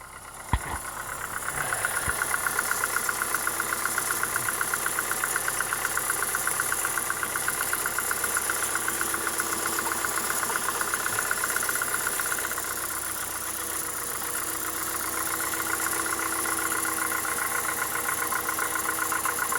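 A Mercury Mystique car idles to warm up after breaking down in Virginia near the Appalachian Trail, with a suspected crankshaft position sensor fault. The engine keeps a steady, close, continuous idle with a faint rhythmic knock and no talk.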